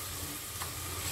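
Salt is stirred into a pan of cooking tomatoes, making a brief, close, continuous sizzle with a soft stirring scrape and no talk.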